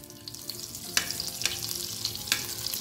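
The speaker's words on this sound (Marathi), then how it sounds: "कढई तापायला ठेवलेली आहे, त्यात थोडं तेल आणि बटर घालून घेतलेलं आहे" Oil and butter sizzling in a heated kadhai before popcorn goes in, a soft continuous frying hiss with a few sharper crackling spurts, close and alone without talk.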